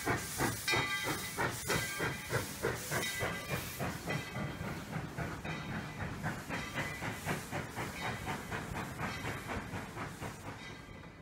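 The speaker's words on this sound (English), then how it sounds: "this is my favorite narrow-gauge steam engine" Narrow-gauge steam locomotive, East Tennessee and Western North Carolina number 12 (Tweetsie), hissing steadily with a rhythmic chuffing pulse throughout, loud and close, with no voices.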